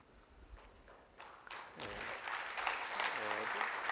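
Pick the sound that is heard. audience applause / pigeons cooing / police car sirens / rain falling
audience applause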